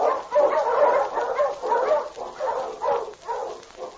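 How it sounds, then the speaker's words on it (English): An Eskimo lead sled dog barks and yips in a rapid run of excited, muffled barks and whimpers, loud and close with no other sound, like an old radio recording. "The Wonder Dog King, swiftest and strongest of Eskimo lead dogs"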